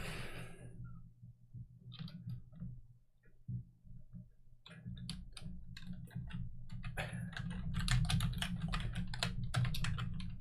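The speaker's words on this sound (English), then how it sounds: "What are you typing?" Rapid typing on a computer keyboard, a dense run of light clicks that builds toward the end, close and fairly loud over a low steady hum, with no speech.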